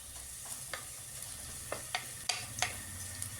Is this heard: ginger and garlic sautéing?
yes